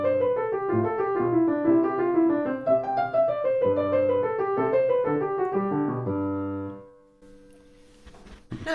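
A piano plays a steady melodic passage at even volume for nearly seven seconds, then rings off into near silence with faint noise.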